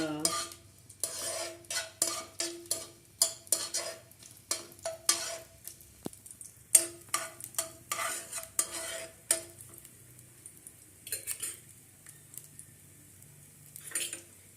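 Coconut pieces roasting in ghee in a pan for payasam, a quiet sizzle under repeated scraping and clinking of a spoon stirring against the metal, coming in irregular bursts with brief pauses.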